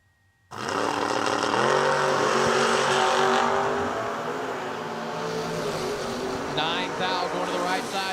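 Drag race cars including the Estes Oil Camaro at Kil-Kare, a loud engine roar bursting in after a brief silence, holding strong and then easing slightly, with faint higher engine whines near the end.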